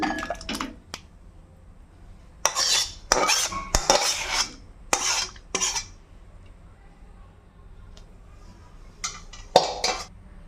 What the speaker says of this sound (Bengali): আমি আলাদা একটা পাত্রে ঢেলে নিচ্ছি